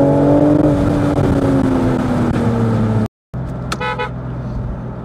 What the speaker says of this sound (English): BMW's tailor-made straight six howl has been a signature of theirs for many years